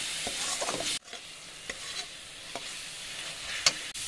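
Spatula scraping and stirring cumin, chili and turmeric powders for a tangra fish curry in a pan, with a soft sizzle and a few sharp scrapes, close and moderately loud, no talking.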